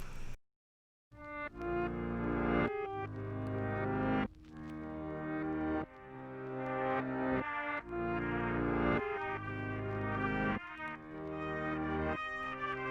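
A musical passage played backwards, each note swelling up and cutting off abruptly in a steady pulsing rhythm, after a brief moment of silence.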